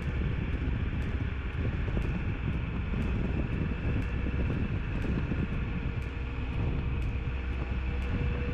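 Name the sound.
strong wind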